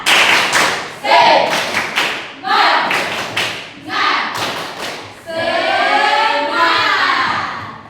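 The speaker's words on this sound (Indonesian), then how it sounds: "Tepuk semangat." A school class doing a rhythmic spirit clap, several sharp patterned bursts of group clapping in a steady beat, ending with children cheering loudly together.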